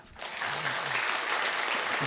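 A church congregation applauds during a Sunday worship service after new members are received, the clapping rising quickly and holding as a dense, even patter, with faint voices beneath it.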